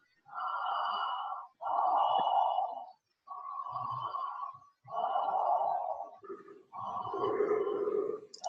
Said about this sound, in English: It's a very circular, looping kind of breath.